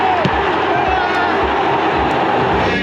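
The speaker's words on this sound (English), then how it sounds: "How weird is that fake crowd noise" Piped-in artificial crowd noise fills an empty football stadium, a steady dense roar of murmuring and cheering with a few dull thuds, heard close under talk.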